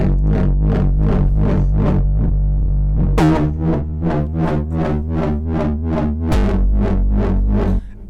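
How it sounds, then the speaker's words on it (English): Synthesizer wobble preset played through a distorted amp section, a series of rhythmic, pulsing bass wobbles that repeat in quick sweeps and shift pitch partway through, loud and alone with no talk. "These are wobbles."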